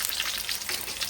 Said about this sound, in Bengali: প্রথমে একটু তেলের মধ্যে রসুন আর শুকনো মরিচ দিয়ে দিলাম